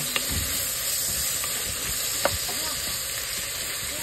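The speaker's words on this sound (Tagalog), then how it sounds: "Ginisa ko muna ng luya at saka yung ahoy" Ginger and garlic sauté in hot oil as the base for native chicken: a steady, close, dense sizzle runs throughout with a few faint clinks, and no talking.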